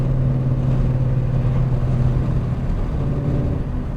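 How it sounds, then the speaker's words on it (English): A Ford Mustang GT cruising in fourth gear, heard from inside the car as a steady, close, low droning engine hum that holds constant with no talking. "Nothing like riding in fourth gear just to hear your car."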